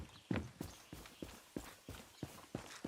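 Horse hooves clip-clop at a steady walking pace in Far Cry 6, about nine evenly spaced thuds, moderately close and fairly quiet, with no voices.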